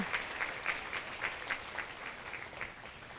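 Sparse, fairly faint clapping from an audience at an entrepreneurship challenge awards event, a handful of distinct claps in a loose rhythm rather than a full ovation.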